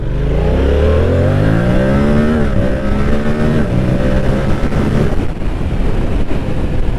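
A 2022 Yamaha R7 motorcycle of 72 horsepower accelerates hard on a power run. Its engine climbs steadily in pitch through the gears, loud and close, with heavy wind rush over the microphone and no talking.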